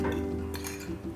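Fork scraping and clinking against a bowl while mixing flour and salt, a short close run of light metallic taps and stirring scrapes.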